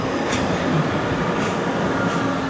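Inside a metro train car on the way to the Hungarian Grand Prix, a steady loud rumble of rolling wheels and carriage noise with faint rhythmic clicks, no talk.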